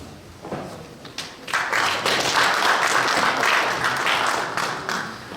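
Applause from a church congregation at a thanksgiving service marking a new council president's installation at Seodaemun Church, building into steady, moderately loud clapping for several seconds before easing off, with no voices over it.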